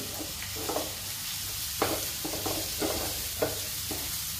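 Finely chopped capsicum and green chili fry in a pan for Goan-style pav bhaji, a soft steady sizzle broken by repeated spoon scrapes and taps, close by with no talk.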